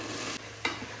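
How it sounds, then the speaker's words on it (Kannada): Field beans (avarekalu) with onion in a hot tempering sizzle steadily in a pan, broken by a couple of quick stirring scrapes, close and clear with no voices. "ಅವರೆಕಾಳನ್ನ ಒಗ್ಗರಣೆನಲ್ಲಿ ಸ್ವಲ್ಪ ಹೊತ್ತು ಫ್ರೈ ಮಾಡ್ಕೊಳ್ಳೋಣ."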